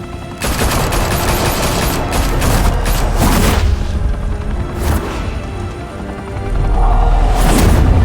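Gunfire in the Batman Telltale Series video game, a loud, sustained fusillade of rapid shots and booming impacts, up close and continuing for several seconds with no talk over it.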